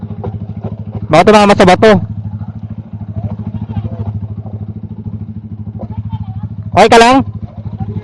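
Motorcycle descending a steep rocky path at Minalungao Nature Park, Nueva Ecija, with a steady close engine drone and clatter over stones, while people talk briefly over it.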